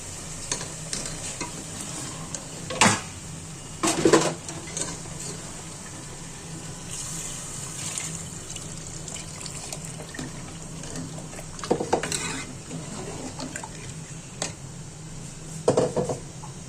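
A spoon stirs aloo gosht with beef in a pot after water is added, giving a low, steady simmering sizzle broken by several louder scraping stirs.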